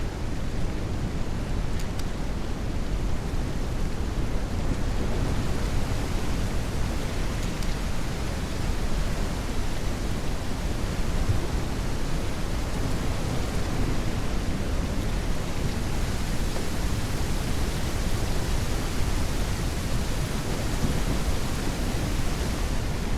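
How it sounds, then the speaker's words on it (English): Heavy, steady video-game rain roars throughout with low rumbling thunder beneath it, a dense continuous wash of noise at constant loudness. "it's raining so loud"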